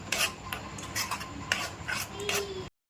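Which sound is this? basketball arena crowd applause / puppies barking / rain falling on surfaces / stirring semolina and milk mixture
stirring semolina and milk mixture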